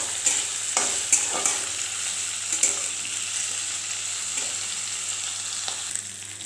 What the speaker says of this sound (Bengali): আলু বেগুন একসাথে ভেজে নেব